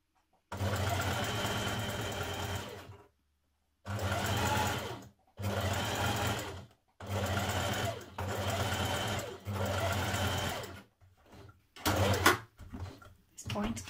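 A sewing machine runs a zigzag stitch in several loud bursts of rapid mechanical chatter, each lasting about a second or two and separated by short silent pauses, ending in a few lighter clicks and clunks.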